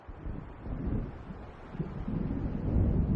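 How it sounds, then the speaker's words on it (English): A low, distant rumble of thunder from an approaching storm rolls through a dark lakeside scene in the video game Alan Wake, faint and swelling gradually under wind-like noise, with no voices. "It seems there's a storm coming."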